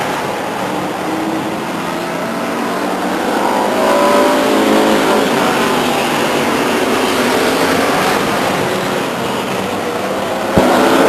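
Race cars roar down the backstretch of Stockton 99 Speedway, a steady, dense wash of engine noise from a pack of cars holding at a constant loud level across the whole stretch.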